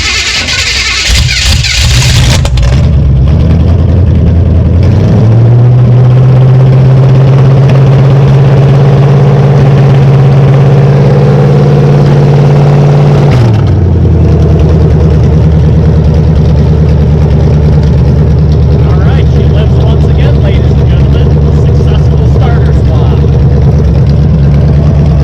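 A small-block Chevy V8 in a demolition derby car cranks briefly, catches and settles into a loud, steady idle. It rises to a higher fast idle, then drops back to a lower, rougher idle, with no talking.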